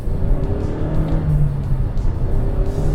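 Toyota Innova Hycross hybrid engine revving in sport mode, throttle blipped on and off so the note rises and falls in quick surges, loud and close with no talking.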